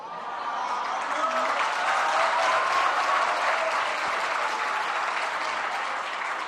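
Audience at a Hindi religious discourse in Agra breaks into steady applause, a dense continuous clapping that rises quickly and holds at an even level throughout, with no voices over it.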